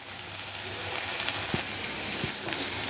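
Chopped onion sizzles in hot oil in a pan with ginger, garlic and onion spice paste while a shol fish curry is cooked; the frying hiss is steady and faint, with a couple of soft knocks.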